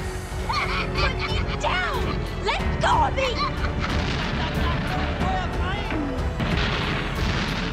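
Explosions and gunfire erupt as German troops attack villagers in a 1985 adventure film scene, loud and continuous with dense booms, shots and honking, goose-like cries layered over a busy, chaotic battle din.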